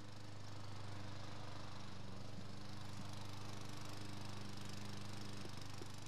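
A 16-inch Husky lawn mower drones steadily at close range while cutting very damp grass, its engine a constant throbbing hum with a few faint knocks.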